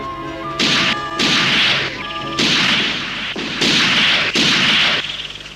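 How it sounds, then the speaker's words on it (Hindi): A rapid volley of loud, sharp gunshots in an animated Jungle Book episode, about half a dozen blasts in quick succession, each with a brief ringing tail, close and punchy. "गोली चलाओ जल्दी।"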